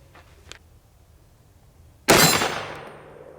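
An AR-15 rifle fires a 5.56 round into a Kevlar helmet at about 25 yards: a single sharp, loud crack that decays over a second, preceded by faint small clicks.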